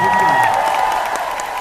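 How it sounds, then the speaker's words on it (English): A convention audience applauds a panel guest at a 2017 fan convention: a dense, loud burst of clapping from a large crowd, with cheers and a voice rising above it. "Big round of applause for Chris."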